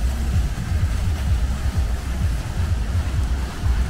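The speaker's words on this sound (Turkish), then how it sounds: "aha da Manavgat Şelalesi arkadaşlar" Manavgat Waterfall sends up a steady, dense low roar of rushing water that continues without pause throughout.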